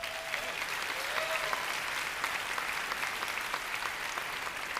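An audience at a business meeting speech claps together in a steady, even wash of applause, moderately distant, with a faint shout early on.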